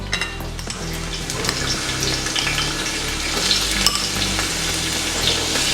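Garlic frying in three tablespoons of hot coconut oil for a Kerala beef curry, a steady dense sizzle with crackling pops that runs close and loud through the whole stretch, no voices.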